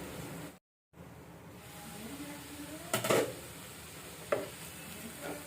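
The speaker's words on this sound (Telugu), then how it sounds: "ఒక 2 మినిట్స్ ఇలా ఫ్రై అవనిద్దాం." Cluster beans frying in a pan with garlic and chili masala, a steady low sizzle with occasional stirring scrapes and clinks.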